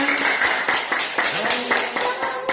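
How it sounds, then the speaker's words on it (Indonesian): Children in a classroom clap their hands together in a loud, rhythmic burst of sharp, evenly spaced claps, with young voices calling out over the beat. "Iya, tepuk tangan."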